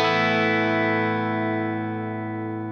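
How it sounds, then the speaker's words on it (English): An electric guitar chord rings out with reverb and delay in an 80s-style tone, one sustained strum decaying slowly and evenly, loud and alone. "here's my dry signal with the reverb and the delay"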